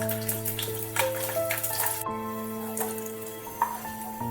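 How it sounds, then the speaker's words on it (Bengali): Whole peeled garlic cloves fry lightly in hot oil, giving a steady soft sizzle with small pops and crackles. A constant low hum runs underneath, and nobody talks. "গোটা রসুন একটু তেলেতে ভেজে নেব হালকা করে"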